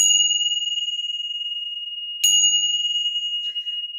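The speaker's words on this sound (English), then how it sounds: "Another sound one are Tibetan bells." Tibetan bells struck for crystal cleansing ring with clear, sustained metallic tones, a first strike decaying slowly and a second, brighter strike midway joined by a faint tinkle, heard alone and close.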